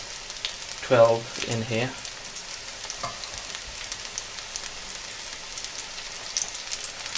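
Onion bhajis frying in very hot oil, a steady crackling sizzle close up with someone speaking briefly over it near the start.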